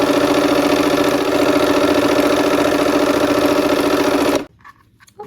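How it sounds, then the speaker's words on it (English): A sewing machine runs steadily while stitching quarter-inch seams on hourglass quilt blocks, a loud continuous motor whir with rapid needle pulses lasting about four seconds before stopping abruptly. "And we're gonna sew a 1/4 inch on both sides of that line."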